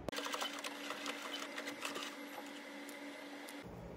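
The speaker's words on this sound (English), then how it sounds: "I'm gonna do a straight stitch on my sewing machine on top of the part that I serged." A sewing machine runs steadily in a fast, even mechanical whir of stitching, then stops abruptly near the end.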